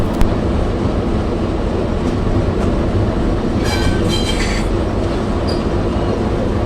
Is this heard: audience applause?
no